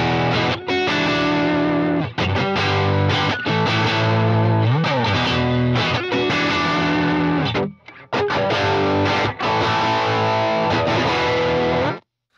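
Heavily distorted electric guitar through a Neural DSP plugin with two custom impulse responses panned apart plays loud, dense riffs with brief gaps and a short pause near the end.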